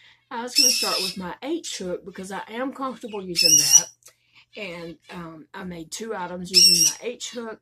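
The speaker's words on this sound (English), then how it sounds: "Sorry about the birds." Small birds chirp and squeak in the background while someone talks about crochet hooks for amigurumi, short high calls popping up a few times over her steady speech.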